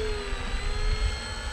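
An RC V-22 Osprey model aircraft holds a hover on its motors, giving a steady, loud electric whine with a sustained high tone and rotor wash rumble, continuous and close without voices.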